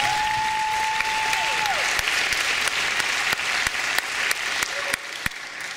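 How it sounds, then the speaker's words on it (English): Steady applause from a large audience at a district attorney candidate forum fills the room, continuous clapping at an even level throughout, with a brief tone near the start. "Let's give them all another round of applause."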